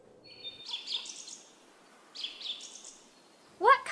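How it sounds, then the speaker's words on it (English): Parrots at a zoo give repeated bright, shrill chirping calls in short bursts, several close in time, followed by a louder harsh squawk at the end, fairly near and alone. "these birds are called parrots"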